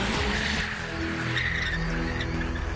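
A car's tires squeal and skid loudly and continuously, with the engine running underneath, as it swings through a reverse 180 into a zigzag slalom on a timed course.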